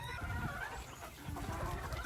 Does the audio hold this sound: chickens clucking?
yes